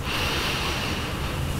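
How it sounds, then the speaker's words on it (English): A single slow, steady breath is drawn in through the nose, airy and close, with a slight snort-like catch at the very end. "Inhale through the nose."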